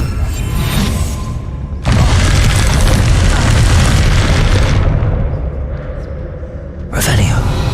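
Bombarda spell blast in Hogwarts Legacy: a loud booming explosion with a long crackling, debris-filled roar lasting a few seconds, followed by a lull and a second sharp burst near the end.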